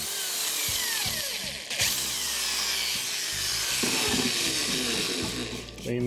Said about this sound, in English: then we drill a test hole in this piece of timber